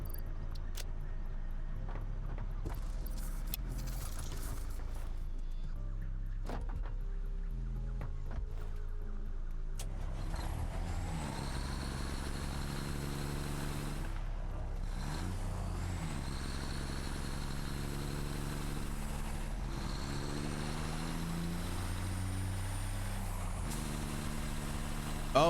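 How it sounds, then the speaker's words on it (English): A truck drives in the factory-building video game Satisfactory, its engine droning steadily with gear shifts and rising, falling revs, alone without talk. "we'll take the truck and bring over some iron ore"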